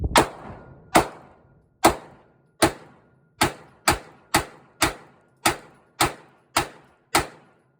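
Smith & Wesson CSX 9mm pistol fired at a target range: a string of twelve sharp, crisp shots, slow at first and then quicker and evenly paced, each clean report dying away fast with no talking.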